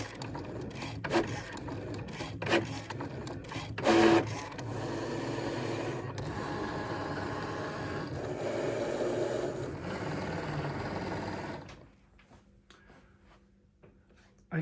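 A Cricut cutting machine works through paper book pages with a steady mechanical whirring and whine for several seconds, preceded by scattered clicks and clunks from loading, then stops, leaving near silence.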